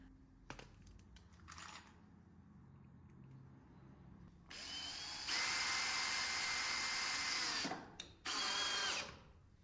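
A power drill drives the last few screws into a garage storage rack for totes, with loud sustained bursts of whirring after a few quieter clicks and knocks, no talk.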